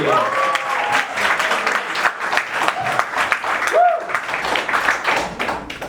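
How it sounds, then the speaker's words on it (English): An audience claps for a contestant on a live stage dating show, a loud sustained wash of hands with a presenter's voice and some whoops rising over it, the clapping continuing throughout. "Everybody clap for Shrishti!"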